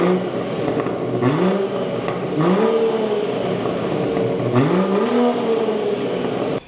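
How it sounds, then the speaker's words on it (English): A BMW 440i with a gasoline particulate filter is revved repeatedly from nearby, its exhaust climbing and falling in four or five rising sweeps over a steady engine drone with no talk. "how you turn your BMW 440i GPF model from sounding like this to sounding like this"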